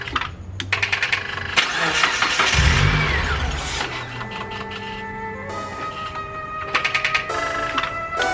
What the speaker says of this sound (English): let's go and try and turn on this car